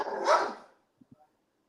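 A single dog barks once, loud and close, as a short harsh burst, followed by a couple of faint soft thuds.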